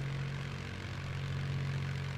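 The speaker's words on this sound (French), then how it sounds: "Ah ouais l'avion il s'arrête." An airplane engine in the video game Just Cause 3 drones steadily in flight, a loud, unbroken hum with a strong low tone that holds level throughout, with no voices over it.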